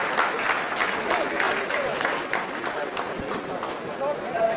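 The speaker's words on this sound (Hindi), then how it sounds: "आप इस तालियों के गड़गड़ाहट को सुन सकते हैं" Applause from scientists in a mission control room after the Chandrayaan-3 lander completes a hovering phase during its lunar descent, sustained clapping from a crowd with a commentator talking over it.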